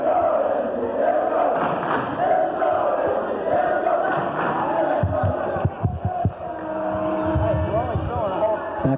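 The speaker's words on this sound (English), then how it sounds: "Let's let the crowd talk for the Notre Dame Knights." Notre Dame Knights fans cheer and roar at a high school basketball game against Shelton: a dense, sustained crowd din with thumps and shouts rising through it.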